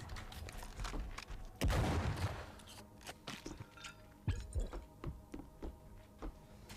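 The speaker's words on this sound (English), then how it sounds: "just shooting things in the air" Enemies fire weapons into the air in the game WRATH: Aeon of Ruin, giving scattered sharp gunfire bursts and thuds with one heavy boom, irregular and moderately loud, alone.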